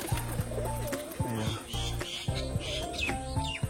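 Green tumbler pigeons coo nearby in soft, repeating throaty phrases, with faint chirps and bird sounds in the background.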